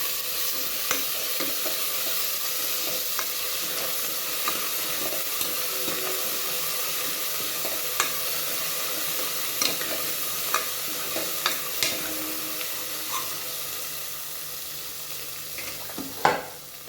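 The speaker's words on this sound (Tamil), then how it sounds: "இஞ்சி பூண்டு பேஸ்ட் போட்டு நல்லா கிளறி விட்டுடலாம்." Ginger garlic paste fries with onions in a pan for potato and brinjal kuzhambu, a steady sizzle running throughout while a spoon stirs and scrapes with scattered clicks, the loudest scrape near the end; no talking.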